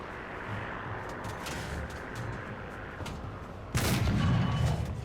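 Tank cannon fire in War Thunder from a Panther II, a distant rumbling battlefield bed broken by one loud, close boom that rolls on for about a second near the end.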